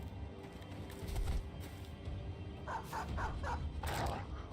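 Dogs barking and yipping during a fight with giant spiders in the game Battle Brothers, a short run of sharp barks over a steady game ambience, fairly faint.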